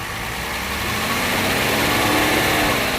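A vintage Mercedes W111 engine idles at low speed, a steady, close mid-to-low mechanical hum that swells slightly louder over a few seconds with no voices.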